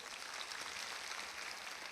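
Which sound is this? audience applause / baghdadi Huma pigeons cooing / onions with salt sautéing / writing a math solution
audience applause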